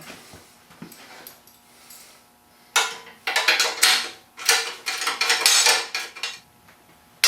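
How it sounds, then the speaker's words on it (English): Bolts on a Road Star motorcycle trunk rack being tightened with a metal tool, heard as several close bursts of rapid ratcheting clicks separated by short pauses, after a quieter stretch of faint handling noise. "get it level and tighten the bolts"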